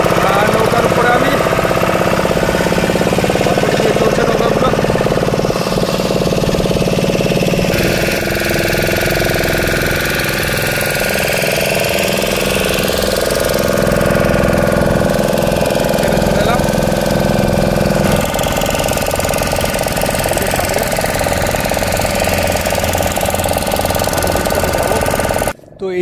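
A motor boat crossing to an island near Digha and Talsari runs with a loud, steady engine drone and knocking throb throughout, with a voice talking at times over it.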